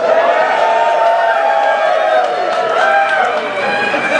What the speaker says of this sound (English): big round of applause for Rick